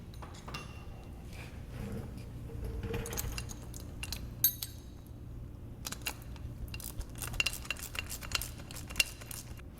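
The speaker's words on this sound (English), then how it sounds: "you can go ahead and tighten them up with a 1/2 inch socket, ratchet, and wrench" Nuts are tightened with a 1/2 inch socket, ratchet and wrench, giving a steady run of small metallic clicks and clinks, some faint and some sharper, close by with no talking.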